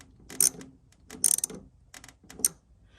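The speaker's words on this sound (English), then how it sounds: "now we can just hand tighten the clamps until they're hand tight" Fuel line clamps on a 1947 Willys CJ2A Jeep being tightened by hand, giving three short bursts of close metallic clicking and ratcheting spaced about a second apart, with quiet pauses between.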